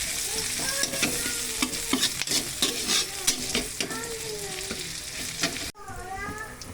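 Onion fries and is stirred in a pan of hot leftover frying oil for a Filipino coconut-milk dish, with a steady sizzle and repeated scraping and clacking from the utensil that stop abruptly near the end.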